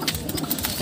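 A racing pigeon of Taiwan bloodline coos softly at close range in a loft, a brief low murmuring call with no talking over it.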